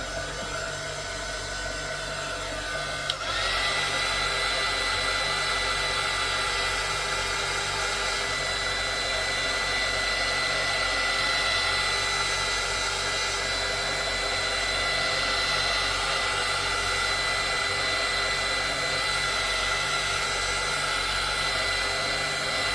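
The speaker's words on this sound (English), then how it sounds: "I'm going to hit this with my heat gun really quick." Heat gun blowing hot air onto small mini art pieces, a loud, steady whirring hiss that kicks in after a few seconds of quieter hum and holds constant to the end.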